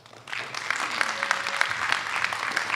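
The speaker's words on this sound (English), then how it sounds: "Round of applause for Chris." A rally crowd supporting protection of the Tongass roadless rule breaks into steady applause that rises quickly and carries on as a dense wash of clapping, with a voice faintly audible underneath.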